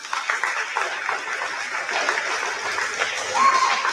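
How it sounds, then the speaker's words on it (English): A prom coronation crowd applauds steadily for about four seconds, a dense, moderately loud wash of clapping with some background voices mixed in. "Let's get a round of applause."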